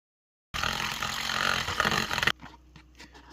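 An Ordiforgo FrothMaster handheld mixer runs on low while whipping egg whites, a dense close buzzing whir that lasts about two seconds and then cuts off, leaving faint clicks and rustles.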